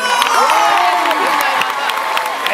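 A crowd at the French cheer dancing championship qualifiers claps and cheers loudly, with whoops and high shouts over continuous applause throughout.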